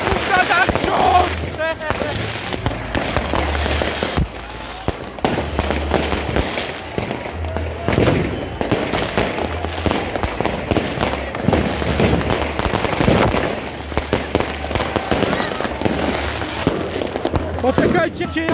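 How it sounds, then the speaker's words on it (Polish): Fireworks are set off for New Year's Eve 2023/2024, with repeated loud bangs and crackling bursts at irregular intervals while people talk and shout nearby. "Niedługo później puściłem fajerwerki."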